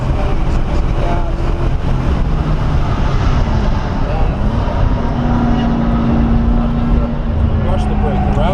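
BMW sports car on the Mosport race track, engine roaring steadily loud and near as it accelerates, with rising pitch under heavy wind rush.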